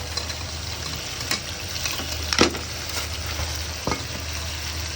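Rice and potatoes frying together with spices in a pan for a fish-head muri ghonto, a steady close sizzle broken by a few scraping stirs, alone with no talk.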